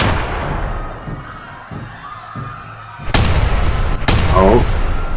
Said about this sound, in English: some people start screaming and gunshots going off.